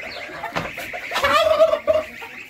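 Turkeys gobbling close by, a loud rattling call rising then breaking into repeated bursts, with farmyard noise around it.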